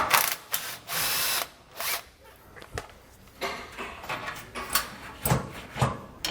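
A 15mm socket turning the bolts out of the rear anti-sway bar on a 2014 Thor Freedom motorhome, with close, repeated metallic clicking and bursts of tool noise in uneven strokes.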